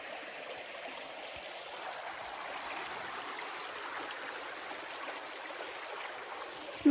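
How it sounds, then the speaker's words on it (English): Flowing stream water runs steadily outdoors, a continuous close rushing and trickling wash that holds an even level throughout, with no voices. "get back to this beautiful flowing water"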